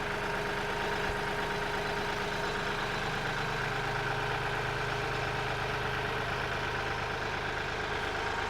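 A tractor engine idles steadily at close range, a continuous low rumble with a constant drone that holds unchanged throughout and has no voices over it.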